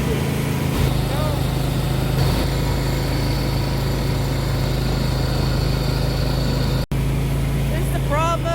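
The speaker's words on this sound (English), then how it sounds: "snow plow on the Can-Am. There's my ride." A Can-Am ATV fitted with a snow plow drives through deep snow at night during a blizzard, its engine droning steadily with a brief cut near the end, and a person talks over it.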